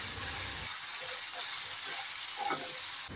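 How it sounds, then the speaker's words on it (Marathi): Chopped onion frying in hot oil in a kadhai for Maharashtrian bhogichi bhaji: a continuous loud sizzle and hiss, with a brief louder crackle at the start and a voice speaking faintly underneath. "कांदा चांगला लालसर भाजून घ्यायचा आहे"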